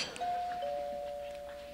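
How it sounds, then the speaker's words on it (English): A doorbell chimes once, a clear two-tone ding-dong ringing out and fading, fairly quiet against faint room noise. "Doorbell."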